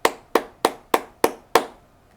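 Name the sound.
hand claps tapping out a rhythm of eighth notes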